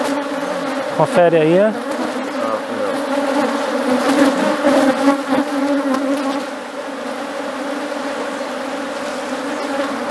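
Honeybees swarm around an opened beehive while a strong colony is split, making a loud, dense, continuous buzz close by; a voice speaks briefly over the hum.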